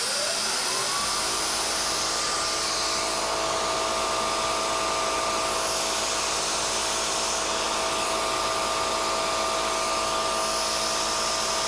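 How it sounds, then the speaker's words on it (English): Mist coolant on a CNC machine kicks in after about a second and keeps up a loud, steady hiss layered with a constant mechanical whine. "Turn on the mist coolant."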